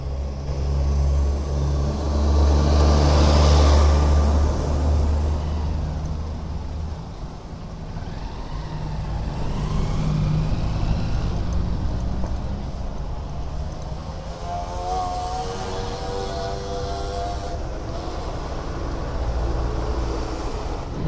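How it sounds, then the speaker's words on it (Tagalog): Road traffic on a North Luzon highway through Nueva Vizcaya and Isabela, heard from a TMX Supremo motorcycle: a continuous engine drone and rushing vehicle noise mixed with heavy wind buffeting, loud and close throughout. "Traffic."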